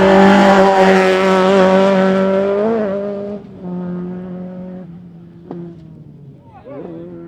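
A rally car on a Tour of Mull 2009 stage revs hard toward a jump, a loud close engine note rising and falling through gear changes before fading and dipping, with brief sharp knocks.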